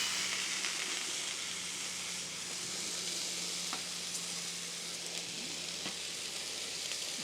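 Steaks sizzling on a hot griddle, a soft, steady crackling hiss with faint pops, fairly quiet and continuous with no talk.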